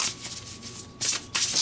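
Tarot cards are shuffled in quick riffling bursts, soft and close, with two brisk flurries near the end and no talk.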